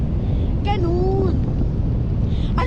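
Constant low buffeting wind noise against the microphone throughout in Cancun, Mexico, with a short voice cutting in briefly.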